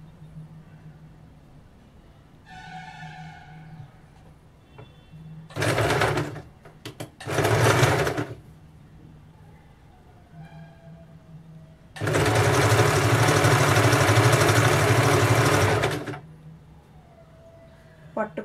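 Two short bursts and then one long run of a sewing machine stitching a blouse, close and fairly loud, with someone talking between the runs over a steady low hum.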